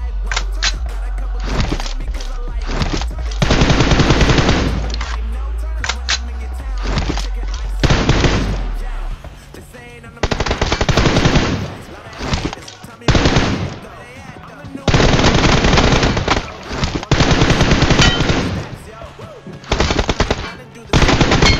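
Rapid automatic rifle fire from an M416 in a mobile shooter game, loud sustained bursts with short gaps, a low rumble underneath early on, and a voice calling out in places.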